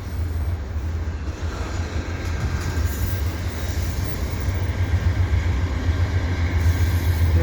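An EXO commuter train passes slowly at Dorval with a continuous, close, heavy rumble and a low engine hum that swells slightly toward the end.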